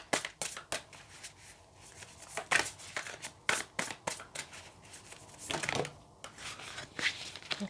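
Tarot cards are shuffled in quick, crisp riffles and slaps, a rapid irregular run of papery bursts close by with no voices.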